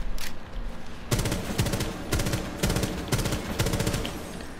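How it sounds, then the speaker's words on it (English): Gunfire in the tactical shooter Rainbow Six Siege, loud bursts of rapid shots in about four clusters roughly a second apart, each with a sharp crackling attack and no voices. "So now I just shot right above the white into the red"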